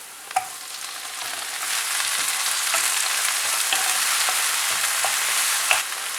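Tomatoes added to browned onions sizzle and fry in a pan, a steady close hiss after an initial clatter, with faint stirring scrapes throughout and no talk.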